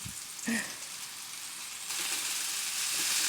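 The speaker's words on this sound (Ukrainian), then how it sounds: "обсмажуємо до золотавої скоринки" Minced-meat meatballs frying in a pan over medium-high heat give a soft, steady sizzle that swells louder and fuller partway through, continuing without speech.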